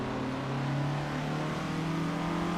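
A 1964 Porsche 356C race car drives on track, its engine droning steadily with a strong, slowly rising tone, loud and close, with no talk over it.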